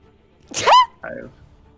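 A single sharp sneeze bursts out, followed by a short vocal sound, in an otherwise quiet room.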